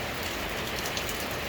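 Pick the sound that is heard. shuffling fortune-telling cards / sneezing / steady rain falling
steady rain falling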